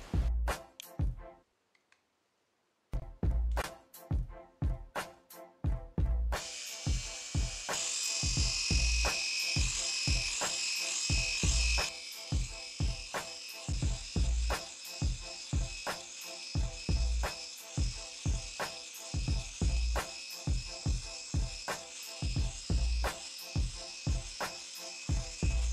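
A Philips BRE245 epilator's trimmer head buzzes steadily with a high whine, running almost continuously after a brief pause near the start, with faint rhythmic ticking throughout.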